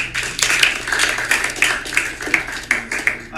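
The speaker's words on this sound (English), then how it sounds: "Let's give everybody another round of applause." An audience at a university startup lab's demo day gives the presenters another round of clapping, heard as a string of distinct, fairly close bursts with an uneven pulse and almost no talking.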